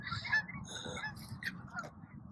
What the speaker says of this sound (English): these geese are super loud